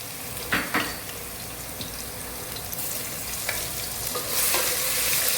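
Crushed ginger and garlic frying in a pan for a potato-spinach dish, a steady close sizzle with a few sharp stirring scrapes, the hiss swelling louder toward the end.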